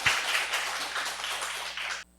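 A church congregation claps and applauds steadily for about two seconds, a dense even patter of many hands that stops abruptly.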